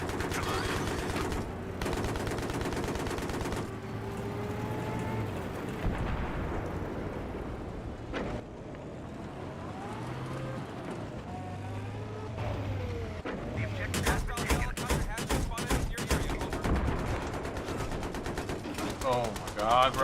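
Bursts of automatic fire and explosions from a Battlefield 3 match on PS3 clatter throughout, some sustained and some clipped, with vehicle rumble underneath and a player talking over the fighting.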